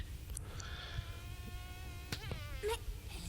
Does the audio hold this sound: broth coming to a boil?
no